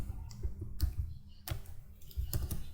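Someone types code on a computer keyboard, producing quiet, close, irregular key clicks and taps in small bursts.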